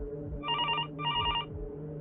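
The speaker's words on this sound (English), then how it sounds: "The sound of that phone ringing had become sickening" A telephone rings in two electronic trilling bursts with a short gap between them, loud and close over a low steady background hum.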